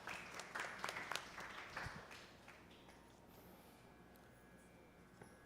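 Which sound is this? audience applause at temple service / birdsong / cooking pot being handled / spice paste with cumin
audience applause at temple service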